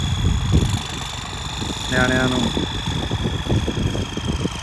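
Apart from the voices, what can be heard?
tractor engine running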